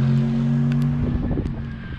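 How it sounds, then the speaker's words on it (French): GT3 race cars roll slowly past on a wet track in the rain, engines humming low and steady, then a car's note shifts as it passes nearby, with spray hiss beneath. "Les voitures qui roulent, c'est GT3, elles sont ralenties."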